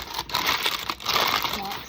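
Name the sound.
parchment paper crinkling in a baking pan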